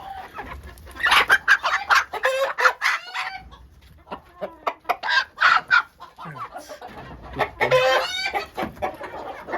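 Dwarf Cochin chickens kept outdoors in winter snow cluck in loud, close bursts, with rapid repeated calls separated by brief pauses and some crowing-like squawks among them.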